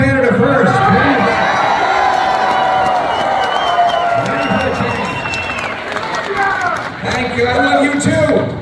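A large crowd at a political rally in New Brunswick, Canada, cheering and shouting in a loud, continuous roar of voices that dips briefly and then swells again.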